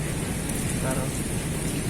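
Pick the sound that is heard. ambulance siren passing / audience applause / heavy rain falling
heavy rain falling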